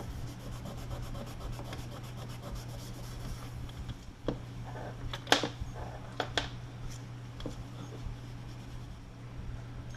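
A 3M Scotch-Brite 07448 pad scrubbing rust off an old radio part, a soft, continuous rubbing with a few sharper scrapes and knocks midway, close and fairly quiet over a low hum.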